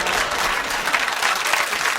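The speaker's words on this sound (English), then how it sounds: "It's a worrying round of applause" A television panel-show studio audience applauds in a dense, steady burst of clapping for a couple of seconds, heard alone without talking.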